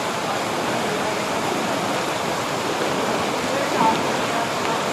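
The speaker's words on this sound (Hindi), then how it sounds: "ये आबशारें देखें और मज़ीद अंदर आबशारें" Moola Chotok waterfall in Balochistan, a fast-flowing cascade of strong water that roars as a dense, constant rush, loud and unbroken throughout.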